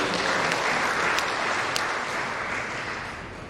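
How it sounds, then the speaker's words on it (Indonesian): Audience clapping fills a hall at a Red Cross (PMI) board inauguration ceremony in East Nusa Tenggara, a steady dense wash of applause with a few sharper claps standing out, gradually easing. "Tepuk tangan dulu buat ini"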